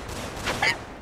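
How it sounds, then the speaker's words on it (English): Enemies fire shots in the VR dungeon game Legend of Luca: a couple of short, sharp blasts rise out of steady background game noise, close and loud, with no talk. "At least they don't shoot too often."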